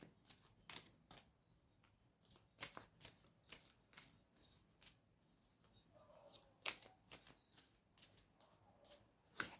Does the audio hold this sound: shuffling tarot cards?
yes